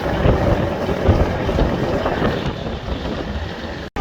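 The Kuakata 2 passenger launch cruises along the Ulania–Kaliganj river channel, its engine a loud, steady low rumble mixed with wind and water rush, continuous throughout with a brief dropout at the end.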